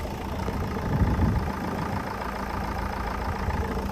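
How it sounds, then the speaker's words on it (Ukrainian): A 1.5-litre diesel Renault Scenic idles at a used-car market, a steady low rumble with no talk over it, swelling slightly for about a second near the start. "Гарненько двигун працює."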